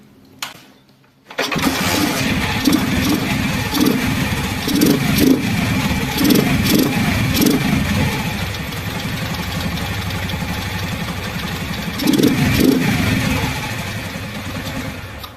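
A motorcycle fitted with an aftermarket air filter inside the original filter cover starts up, then idles with a steady close thrum and a few light revs before settling, with no talk.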